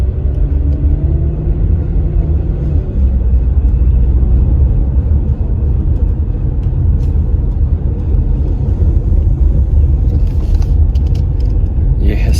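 A 2011 Infiniti G25 on the road gives off a loud, steady low rumble with a dull, uneven roar like a flat tire, continuous throughout, with faint clicking near the end.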